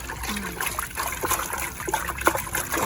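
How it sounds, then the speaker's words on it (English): Biodynamic preparation BD500 is being stirred into water, producing a continuous churning swish and trickle with small splashes, close and moderately loud. "mix in the preparation into the water"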